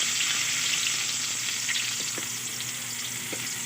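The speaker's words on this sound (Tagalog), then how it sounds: "Ating paniudto naman sa nagprito ko hotdog o egg tayon." Hotdogs or eggs fry in a pan with a steady, close sizzle. A few faint clicks of stirring sound underneath, and no one speaks.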